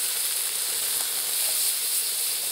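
Potatoes, garlic and carrots sizzling loudly in a pan, cooked outdoors on a bank while carp fishing, a steady close hiss with no pauses and no voices.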